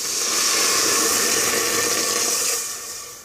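Two cups of water pour steadily into a pressure cooker for pinto beans, a close, continuous splashing hiss that tapers off near the end.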